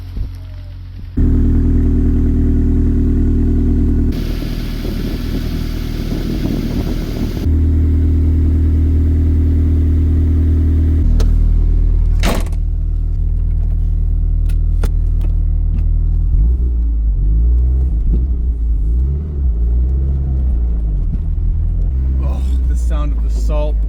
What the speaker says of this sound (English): just gonna drive this thing slow so the salt doesn't fling around everywhere